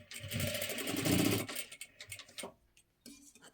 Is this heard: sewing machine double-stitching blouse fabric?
yes